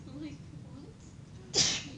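A single sharp sneeze bursts out near the end, brief and close, after a stretch of quiet room noise.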